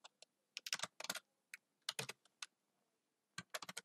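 Close, quiet clatter of keys on a computer keyboard, typed in short irregular bursts of a few keystrokes with brief gaps between them and no voices.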